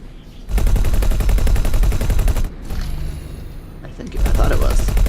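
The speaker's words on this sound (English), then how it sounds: "That ship is returning fire." Rapid sustained weapons fire from an enemy ship in the space game X4: Foundations, loud dense bursts with a brief lull midway before the barrage resumes.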